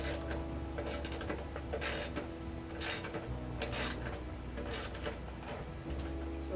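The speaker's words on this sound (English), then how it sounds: "And then just go the rest of the way with the ratchet." A ratchet wrench tightens a bolt holding a lawn mower gas tank, giving several short bursts of quick metallic clicking separated by brief pauses, close up and fairly quiet.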